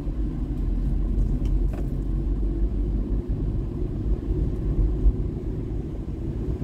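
Car engine heard from inside the cabin during gear changes, a steady low droning rumble that holds throughout with slight dips and swells, no talking.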